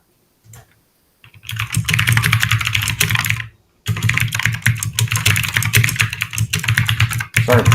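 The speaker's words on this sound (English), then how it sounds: "Sorry if the keyboard's really loud." Fast, loud computer keyboard typing at close range, with a dense clatter of keystrokes in two long bursts split by a short pause and a few isolated taps at the start.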